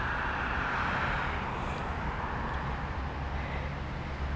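Steady roar of busy road traffic beside a garden, a constant broadband rumble with no breaks, fairly loud and continuous.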